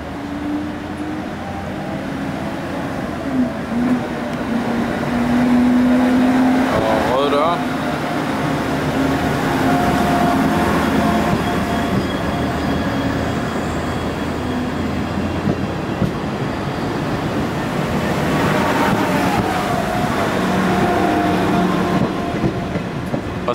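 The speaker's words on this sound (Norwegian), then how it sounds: "Her har vi IC4-toget 58-41." An IC4 passenger train runs past at close range with a continuous rumbling roll and rhythmic wheel clatter across the rails, swelling and fading over about twenty seconds, and no voices are heard.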